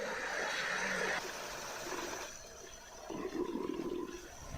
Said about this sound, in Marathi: या पाईपलाईनमधून मोठ्या प्रमाणात पाण्याची नासाडी होत असल्यानं ग्रामस्थांनी संताप व्यक्त केलेला